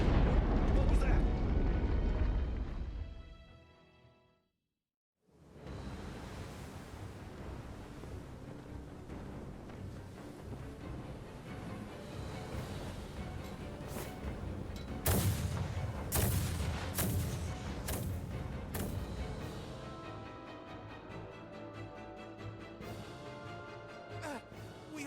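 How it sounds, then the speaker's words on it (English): Naval battalion bombardment in the video game Star Ocean The Divine Force: heavy artillery fire booms and rumbles under a continuous roar, with sharp blasts clustered midway and voices speaking over the din. "We are taking massive fire from the Empire's naval battalion. Their unceasing bombardment is laying waste to our forces."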